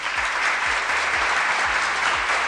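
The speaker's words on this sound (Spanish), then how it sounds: "¡Aplauso!" A group gives loud, close applause for a birthday, a brief dense burst of clapping that stays steady across a couple of seconds, with a low rhythmic thumping beneath it.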